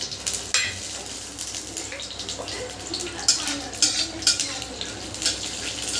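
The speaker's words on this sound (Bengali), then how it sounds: "এদিকে আমি গরম তেল করে নিয়েছি তেলে জিরে দিয়েছি" Nuts frying in hot oil with cumin and fried ginger in a pan, a steady sizzle with intermittent stirring and scraping clinks, close and moderately loud, with no speech.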